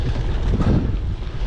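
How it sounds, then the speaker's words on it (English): Gusty wind buffets a microphone during a long-distance road cycling ride into a headwind, a loud, rough low roar that surges and rumbles unevenly throughout the brief moment. "And it was a very gusty day."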